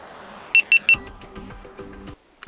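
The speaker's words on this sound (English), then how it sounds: "when you will hear this characteristical beep sound, it means that the reset is finished" A GoPro Hero 10 Black gives three short, evenly spaced electronic beeps to signal that its factory reset is complete. The beeps are crisp and close, with some soft handling noise following them.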